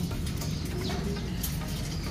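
Racing pigeons coo close by in a loft, a dense run of overlapping low, throaty coos that continues steadily without pause.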